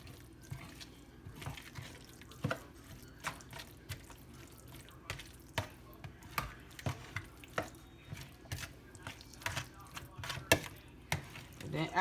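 Tater tot casserole ingredients mixed in a bowl, giving a steady run of soft wet thumps and squelches at an even, brisk rhythm, with light clicks of the utensil and faint talk in the background.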